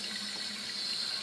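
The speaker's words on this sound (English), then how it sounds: "so you just want to run some cold water on it." Cold tap water running over the sole of a shoe during cleaning, a brief, steady close splashing rush with a bright hiss, alone without talk.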